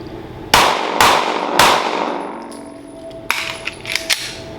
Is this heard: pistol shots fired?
yes